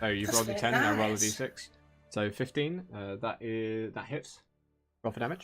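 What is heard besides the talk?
No everyday noises stand out.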